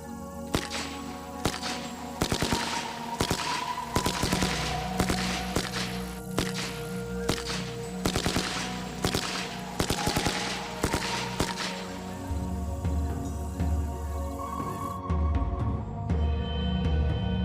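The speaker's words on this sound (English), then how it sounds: "We'll see him load it up and actually put rounds in the chamber and fire off the Second World War Bren gun." A Second World War Bren gun fires blank ammunition at a Canadian historic fort, with sharp cracking shots repeating in rapid clusters through most of the clip, loud and close.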